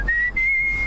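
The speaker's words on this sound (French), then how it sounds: "Vous pouvez me siffler" A person whistles a single sustained, steady high note that runs almost unbroken for about a second, close and clear over a low background rumble.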